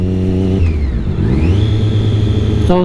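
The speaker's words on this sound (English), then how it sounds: "clutch all the way in, revs drop all the way to the bottom" A motorcycle engine hums at a steady idle, revs briefly rising then sinking back to a low idle as the clutch is pulled all the way in, loud and close.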